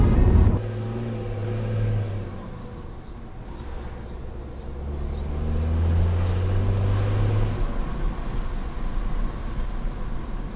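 A tuned BMW 335d diesel being driven hard gives a deep, rising engine drone that surges and holds under a steady road rush, with no talking.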